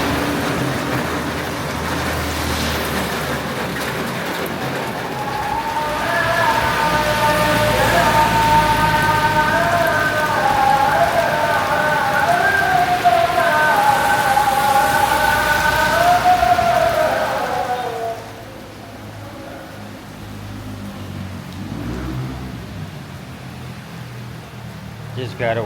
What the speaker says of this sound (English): as you can see, I was wrong about it not wanting to rain.